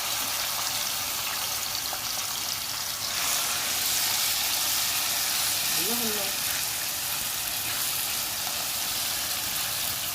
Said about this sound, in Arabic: اهم حاجه ان الزيت يكون سخن عشان الكبده بتاعتك تاخد صدمه على طول